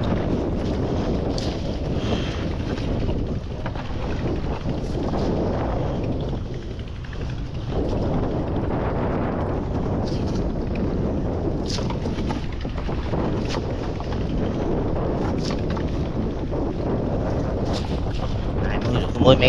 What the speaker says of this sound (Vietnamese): Quá trời trời gió luôn